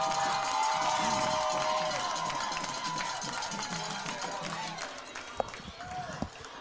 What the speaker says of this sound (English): You can hear the crowd getting in it as I've got our window open now